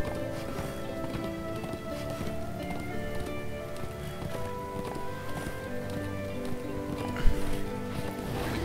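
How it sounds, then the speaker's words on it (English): Galloping horse hooves in the video game Darksiders 2, a steady rapid clip-clop running continuously under dense game music and ambience, with one louder thud near the end. "June will have our horse again."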